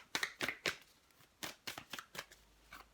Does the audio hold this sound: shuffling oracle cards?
yes